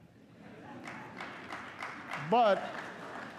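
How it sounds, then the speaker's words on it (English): Faint, scattered applause from a small part of the audience in the chamber during the 2016 State of the Union address, heard beneath the president speaking. "oh, applause back there."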